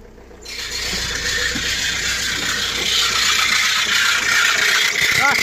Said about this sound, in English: there's some horrible squealing coming from there